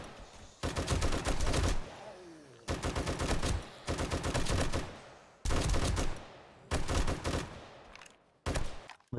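Long bursts of automatic gunfire in the zombie survival game 7 Days To Die, loud and close, arriving in five separate sustained volleys with short pauses between them.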